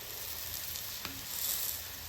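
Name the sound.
thalipeeth flatbread roasting in a pan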